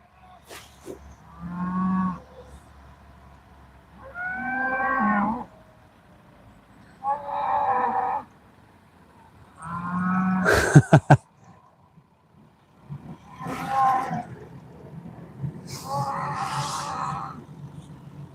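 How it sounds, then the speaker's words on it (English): Cows bellow out on a farm in a series of long, loud moos, about six calls spaced a few seconds apart, with a sharp clatter partway through. "Wow, those cows are going crazy where the farmer is coming now."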